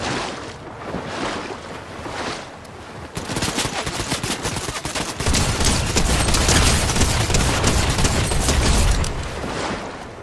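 Rapid bursts of gunfire in the Fortnite video game, set in a jungle, crackle densely and loudly throughout, growing heavier and more sustained in the second half.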